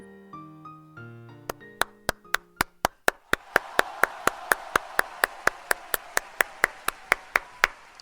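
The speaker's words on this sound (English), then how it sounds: "I was applauding" A single person claps hands in a steady run of about twenty sharp, close claps that start over some soft tonal music and carry on alone, with the spacing tightening as they go.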